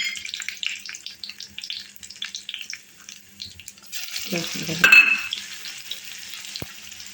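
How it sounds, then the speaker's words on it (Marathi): Cumin and mustard seeds crackle and sizzle in hot oil with fine popping, then a burst of louder frying and a clatter as asafoetida and curry leaves go into the pan. "तेल तापलेलं आहे. आपण जिरं मोहरी फोडणी करायला."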